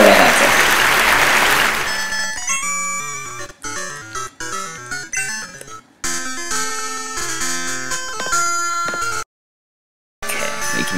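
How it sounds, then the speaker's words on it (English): A burst of crowd applause opens the clip, dense clapping for about two seconds before giving way to game music and sound effects from Pokemon Gold. "Can I get an applause?"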